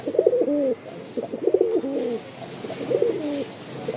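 Giribaj pigeons cooing close by in several repeated soft throaty phrases with short pauses between them, over faint background hiss.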